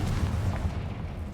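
Blast from the Confringo spell in a wizard video game, a brief low dull thud that rumbles out quickly, faint and isolated.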